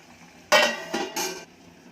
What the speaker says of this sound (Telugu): ఒకసారి తిప్పేసి మూత పెట్టుకుందాం.